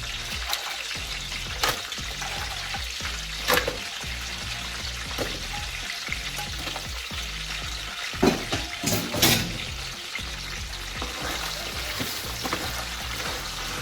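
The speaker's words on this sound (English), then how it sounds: "put the crabs in the oil" Crabs sizzle in hot oil for a spicy seafood ayamase stew, a steady crackling fry with scattered pops and clinks of cookware throughout, fairly close and without voices.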